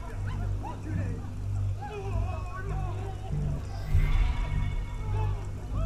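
A dog in Assassin's Creed Unity gives short barks and whimpering yips amid ambient street noise in revolutionary Paris, while someone talks over it.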